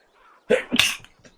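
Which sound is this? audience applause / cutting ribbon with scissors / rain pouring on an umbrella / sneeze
sneeze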